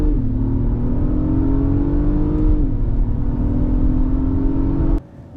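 A 2024 Acura MDX Type S accelerates at full throttle, its engine a loud, close, sustained roar climbing steadily in pitch, with one brief shift dip, then cutting off abruptly at the end.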